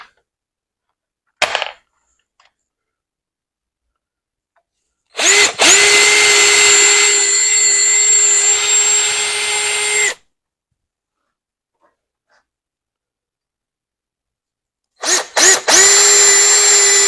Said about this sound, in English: some pilot holes. That way we don't split the wood.